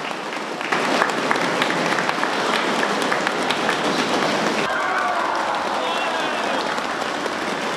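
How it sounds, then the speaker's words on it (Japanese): Crowd at a Sendai Ikuei high school viewing gathering cheering and beating uchiwa fans after a two-run home run at the summer Koshien tournament: dense, sustained roar with rapid tapping throughout, loud and steady. "会場には大きな歓声と内輪を叩く音が響きました"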